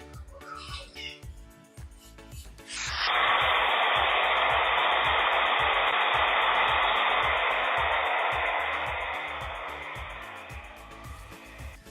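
A pressure cooker of sweet corn on the stove lets out a loud, steady steam hiss that starts suddenly and holds for several seconds before slowly fading, with a soft rhythmic thumping underneath.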